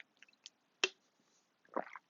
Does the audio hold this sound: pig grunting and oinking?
no